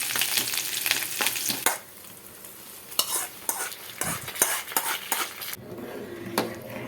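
Sliced shallots tempered in hot oil, then stirred into a simmering lentil curry, with crackling sizzle, repeated metal spoon clinks and scrapes against the pot, and a quieter bubbling after the oil is poured in.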